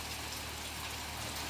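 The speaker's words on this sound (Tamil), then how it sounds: "சடனாக வந்து நல்லா மழை பிடிச்சிக்கிச்சிங்க." Heavy rain pouring steadily at a hill resort in Yelagiri, a dense even hiss with no breaks and no voices.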